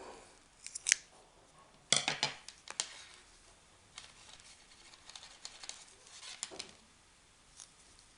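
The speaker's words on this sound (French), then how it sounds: "Là on va donc couper le fil et passer le fil dans la maille." Scissors snip knitting yarn in a few soft, close, crisp cuts, heard alone against a quiet room with light handling rustle between them.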